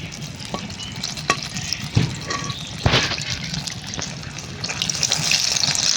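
Jaggery malpua pancakes fry in hot oil, a close, continuous bubbling sizzle with occasional sharp spatters and ladle clinks, the crackle building louder toward the end.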